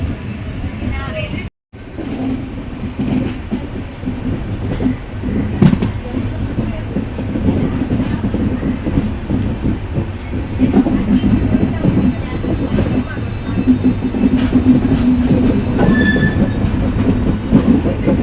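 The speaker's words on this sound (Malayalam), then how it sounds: "ഇത് ആലപ്പുഴ വഴി പോകുന്ന വണ്ടിയാണ് കേട്ടോ" Train 22659, a superfast sleeper from Thiruvananthapuram North to Rishikesh via Alappuzha, rumbles along with steady clickety-clack from the wheels, heard from inside at a constant close level, with a voice talking over it.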